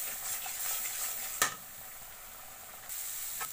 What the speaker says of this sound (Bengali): স্বাদ মতো লবণ দিয়ে ভালোভাবে এখন মশলাটাকে কষিয়ে নিচ্ছি